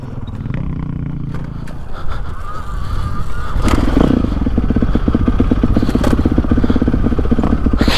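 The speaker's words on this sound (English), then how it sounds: "here, Caleb, ride this bike" Trail motorcycle engine revving up from a lower idle into a loud, close, rising buzzy roar that holds steady, with a brief honk-like tone early on.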